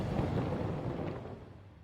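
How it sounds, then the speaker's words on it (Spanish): A cosmic supernova explosion rendered as a sound effect: a deep, sustained roaring rumble that holds steady and slowly fades across a couple of seconds, with no voices present. "El poder puro de una explosión cósmica es aterrador."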